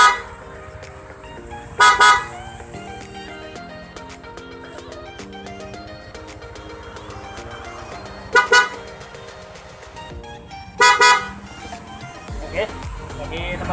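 Three loud bursts of an aftermarket Bosch Evolution car-type horn on a Yamaha NMAX scooter, each a short double blast, ring out over steady background music, separated by several seconds.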